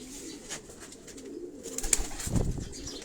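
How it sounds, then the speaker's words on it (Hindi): Domestic pigeons kept on a house rooftop give soft, low cooing calls, with a brief flutter of wings and faint background noise. The sound is quiet and nearby. "ये डॉक्टर साहब के अपने घर के कबूतर हैं।"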